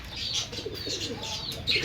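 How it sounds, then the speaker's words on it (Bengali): Soft, low cooing from pigeons nearby, a few murmured calls over faint background noise. "একজোড়া বারহুমা কবুতর রয়েছে"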